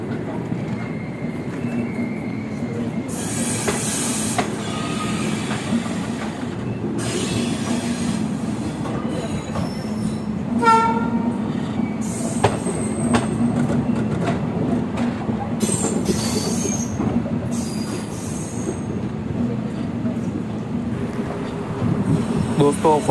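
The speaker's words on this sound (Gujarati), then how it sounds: "આપણી ગાડી અત્યારે જામનગર પ્લેટફોર્મ નંબર 3 ઉપર એન્ટર થઈ ગઈ છે" The 22906 Okha SF Express rolls into platform 3 at Jamnagar station, with loud wheel squeal, clickety-clack over the rails and rumbling carriages under background voices.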